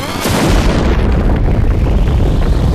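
Loud in-game explosion from the Final Fantasy Tactics strategy RPG: a sharp blast onset followed by a long, dense rumbling roar that stays loud and sustained to the end, with no talking.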